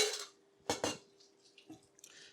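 Shredded cabbage is thrown into a hot pan of cooked rice noodles for spicy squid, giving two quick clattering rustles of the pan and utensils followed by faint scraping and light clinks, with no talking.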